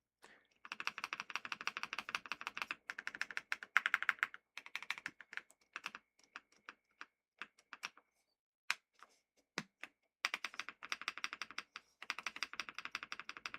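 Typing on a Womier ERA75 mechanical keyboard with a slight rattle on the right side: fast, dense clacking bursts with short pauses and a few isolated single keystrokes, close and clear.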